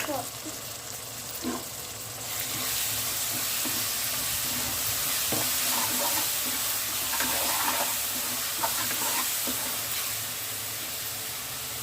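Masala paste being stirred into prawns frying for a prawn biryani, giving a steady close sizzle with scraping and stirring knocks throughout, a voice speaking over it.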